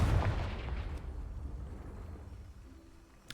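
A deep, booming blast from the Confringo spell in Hogwarts Legacy hits hard at the start, then its rumbling tail decays slowly across the rest of the clip.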